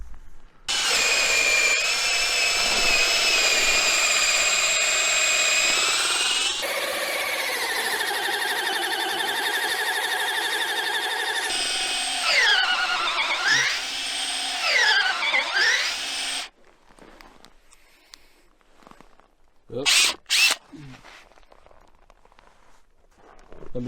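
A power drill bores holes through wood on a farm in Siberia, loud and sustained whining runs with pitch dips under load, stopping and restarting several times before a short final burst.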